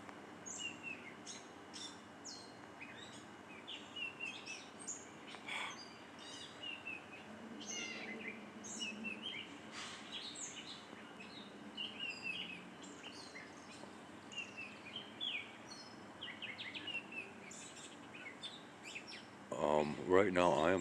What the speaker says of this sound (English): Right now I am kind of clueless as to what type of songbird this is.